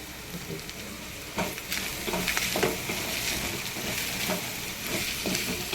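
Ginger paste and curry leaves frying in a pan, a steady close hiss and crackle of hot oil with small bursts of spitting, no voices.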